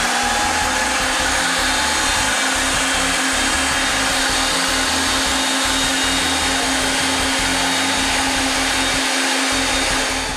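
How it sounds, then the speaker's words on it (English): A Reed 5301PD power threader cutting threads on 3/4 inch pipe, a steady, loud motor whir with a constant hum that runs unbroken throughout, with no voices. "So I'm going to have them close to thread the pipe."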